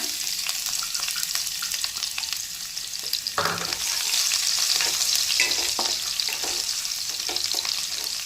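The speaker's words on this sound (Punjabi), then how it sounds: "ਲਸਣ ਨੂੰ ਤੁਸੀਂ ਅੱਧਾ ਕੁ ਮਿੰਟ ਪਕਾਣਾ" Garlic sizzles steadily in hot oil in a pan, a close, continuous frying hiss with occasional stirring scrapes and no talk.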